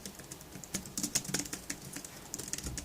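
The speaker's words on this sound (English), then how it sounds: "this is a scissor key keyboard." Soft, muted keystrokes from a low-profile Perixx PERIBOARD-804 scissor-key Bluetooth keyboard, quick irregular taps close by with faint background noise.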